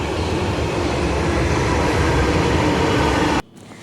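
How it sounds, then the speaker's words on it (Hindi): Metro train at Arjangarh metro station in Delhi, a loud steady rumbling roar of the moving train that cuts off sharply near the end, leaving a quieter hum. "इसमें तो पहुँच चुकी हूँ अर्जनगढ़ मेट्रो स्टेशन।"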